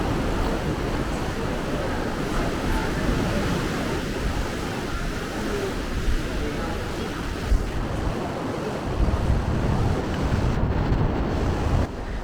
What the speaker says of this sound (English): The water is quite rough because it's windy and it's during the monsoon season.